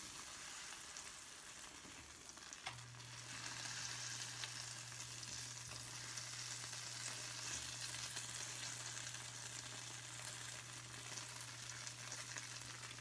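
A gluten-free grilled cheese sandwich toasts in a hot pan after being flipped, giving a steady close sizzle and crackle that runs unbroken for the whole stretch, with a low hum underneath and no voices.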